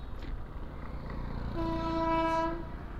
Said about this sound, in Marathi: समोर कोकण रेल्वे चालली आहे.